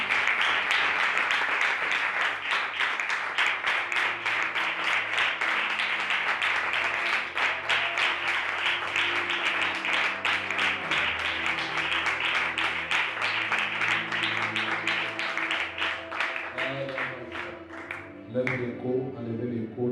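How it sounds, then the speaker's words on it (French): A church congregation at a French-language worship service applauds loudly and steadily for nearly twenty seconds, a dense roar of clapping over sustained music and voices, thinning out near the end. "Est-ce qu'on peut acclamer très fort pour le Saint-Esprit?"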